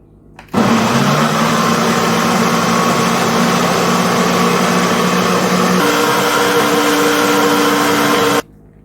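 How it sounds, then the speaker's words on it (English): A kitchen blender purees garlic into a honey garlic wing sauce, giving a loud, steady whirring drone for about eight seconds that shifts slightly in pitch near the end before cutting off. "now I'm just gonna puree out the garlic in the sauce so that our sauce can be smooth"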